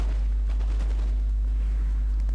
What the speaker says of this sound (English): I'm firing canister shots,